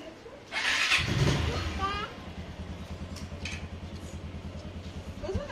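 A motorcycle engine starts and settles into a low, steady idle-to-ride drone, close at first, with voices talking over the start.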